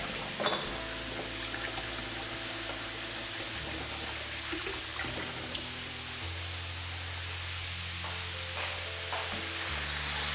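Beef mince for chilli nachos fries in a pan with a loud, continuous sizzle, broken by occasional scraping and stirring sounds as it is spread out, close and steady for the whole stretch.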